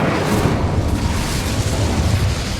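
A fiery Incendio spell blast in a Hogwarts wizarding video game, heard as a dense, sustained roaring burst of flame and rumble that stays loud and steady for a few seconds with no talk.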